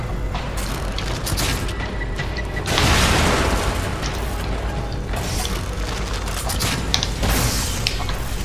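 An explosive boom bolt detonates in a dark survival-horror fight, a loud broadband blast near the three-second mark rising out of dense, continuous game noise and mechanical clatter.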